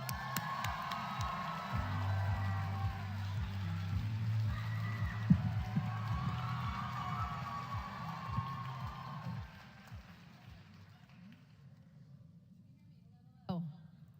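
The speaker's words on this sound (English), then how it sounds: "I thought you were excited cheering for me" An event audience cheers and whoops for Lisa Ling at an AA and NHPI Heritage celebration hosted by the White House, a steady loud crowd roar for about nine seconds that fades out, with a brief burst near the end.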